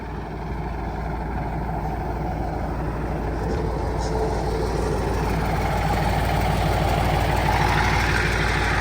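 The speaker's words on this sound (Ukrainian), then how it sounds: "І включили одразу гусеничний трактор." A T-150 crawler tractor's turbocharged YaMZ-236 diesel engine runs steadily at close range, a continuous low chugging rumble that holds for the whole stretch.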